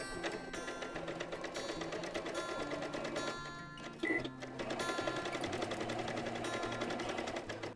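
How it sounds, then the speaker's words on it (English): A sewing machine stitches steadily along a fabric edge for a headband, sewing a quarter-inch seam allowance. The whirring runs close and continuous, with one brief pause midway before it picks up again. "let's sew along that edge again with our 1/4 inch seam allowance"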